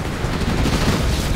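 A dense barrage of gunfire from the Command & Conquer: Generals Evolution video game rumbles in a continuous loud rattle of overlapping shots.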